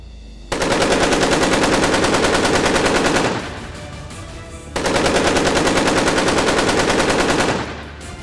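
The Russian warship Admiral Kasatonov fires artillery during an exercise in the Barents Sea, two long sustained bursts of rapid automatic gunfire separated by a short pause, loud and dense.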